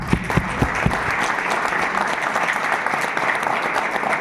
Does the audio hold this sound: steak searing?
no